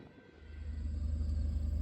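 A BNSF coal train led by SD70ACE locomotives rolls past on the Ottumwa Subdivision in Iowa, a deep low rumble building steadily from moderately distant to closer and louder.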